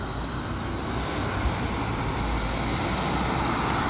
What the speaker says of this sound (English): There's gonna be a loud bus.